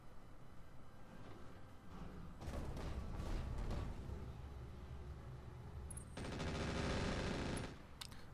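Mech missile launchers firing in the BattleTech mod Roguetech, two rapid rattling volleys of launches with a rushing roar, the second burst louder and denser, over a low steady game rumble without voices.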